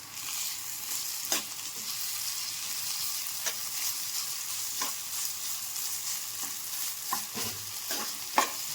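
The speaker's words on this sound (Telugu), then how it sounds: "పచ్చివాసన పోయేంత వరకు వేయించుకుందాం." Ginger garlic paste sizzles in oil in a pan for an egg curry, a continuous close frying hiss broken by repeated sharp scrapes and taps of a spoon as it is stirred.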